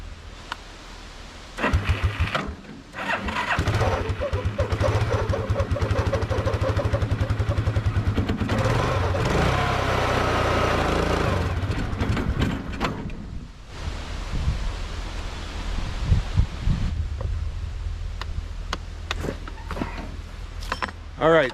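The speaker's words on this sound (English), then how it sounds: "we do have the brush hog spinning. The engine doesn't run strong enough for me to fully engage the PTO" A tractor engine on an off-grid homestead runs a spinning brush hog mower, a loud, steady mid-pitched drone with surging clatter and knocks, fading briefly before picking up again.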